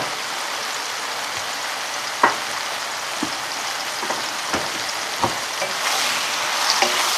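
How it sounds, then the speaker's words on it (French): Porcini mushrooms and sliced garlic sear in a pan over high heat with a steady, bright sizzle, close up. Scattered soft clicks and taps from stirring sound over it, no talking. "On saisit à feu vif parce qu'on ne veut pas que les champignons rentrent de l'eau."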